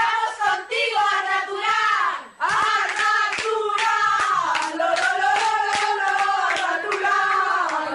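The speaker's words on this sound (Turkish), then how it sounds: "Videoda Arda Turan'a özel tezahürat vardı" A crowd, mostly young women in a Spanish fan group, chants and cheers for footballer Arda Turan, with loud sustained voices in unison and a brief dip partway through.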